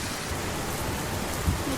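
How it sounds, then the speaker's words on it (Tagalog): Heavy rain pouring in Hong Kong during an amber-to-black rainstorm warning, a dense, constant hiss of downpour with a brief low thud partway through and no talking. "Lakas ng ulan."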